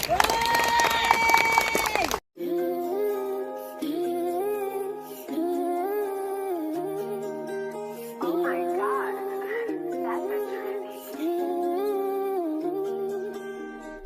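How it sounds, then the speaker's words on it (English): An audience claps and cheers at a political talk event in a short, dense burst of noise that cuts off abruptly. Music starts right after and carries on to the end. "Let's give David a round of applause."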